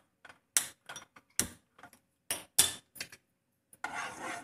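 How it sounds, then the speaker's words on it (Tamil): A gas stove is turned on in a home kitchen while egg malai curry is being cooked: a series of sharp, separate ignition clicks with irregular gaps, then a soft, steady hiss of gas as the burner catches. "இந்த ஸ்டேஜில் நம்ம அடுப்பையும் ஆன் பண்ணிக்கலாம்."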